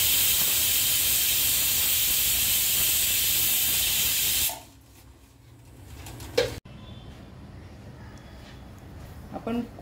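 Pressure cooker venting steam while cooking guavas: a loud, continuous hiss for about four seconds that cuts off abruptly, followed by quiet room noise and a few soft clicks.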